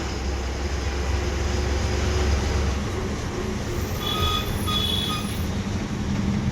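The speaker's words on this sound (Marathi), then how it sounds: "आणि तो आता आपण पोहोचत आहोत दादर बस स्टँडला." MSRTC Lal Pari bus on the Mumbai to Vijaydurg route arriving at Dadar bus stand, a steady low engine rumble heard from inside with road noise and a few faint high beeps near the end.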